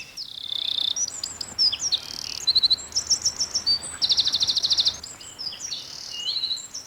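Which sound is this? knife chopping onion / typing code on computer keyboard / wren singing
wren singing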